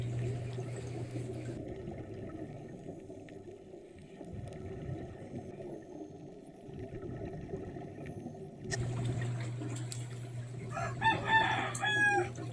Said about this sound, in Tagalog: Yun, manok.